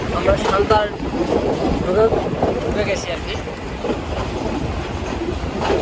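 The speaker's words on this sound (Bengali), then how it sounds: "আমাদের ট্রেনটি সান্তাহারে প্রবেশ করলো" A passenger train rolls into Santahar, wheels clattering rhythmically with occasional squeals and a steady carriage rumble, while a voice talks over the noise.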